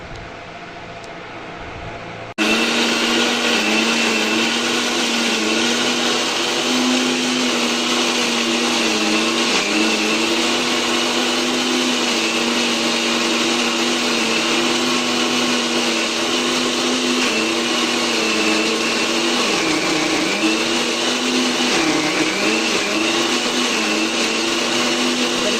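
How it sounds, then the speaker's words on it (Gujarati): A mixer grinder grinds a soaked poppy seed and fennel mixture for an herbal fennel drink, starting with a click and then whirring loudly and steadily at constant speed for over twenty seconds. "પલાળેલા દરેક મિશ્રણને વ્યવસ્થિત 3 થી 4 વાર ગ્રાઇન્ડ કરી લઈએ."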